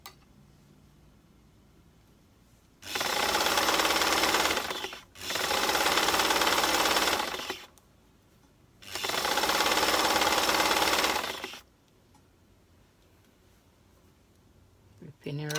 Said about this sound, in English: So we're using a zigzag stitch still.